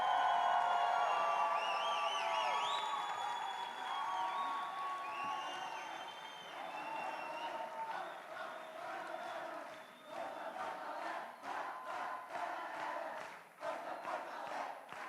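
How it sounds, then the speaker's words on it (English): Large crowd cheering and shouting at a closing ceremony of the Erasmus Generation Meeting in Seville, loud whoops and high-pitched cries at the start settling into sustained cheering and clapping. "Please, please, don't stop cheering,"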